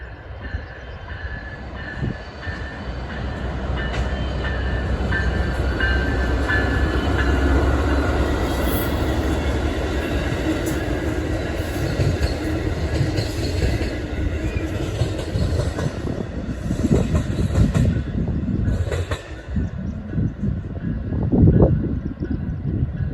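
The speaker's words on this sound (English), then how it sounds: "we then see the westbound Amtrak Carl Sandburg as he was crossing the bridge on the former Burlington route" A westbound Amtrak Carl Sandburg passenger train crosses a bridge on a former Burlington route, a sustained rumbling roll of wheels with faint clickety-clack and some squeal, loud and steady throughout.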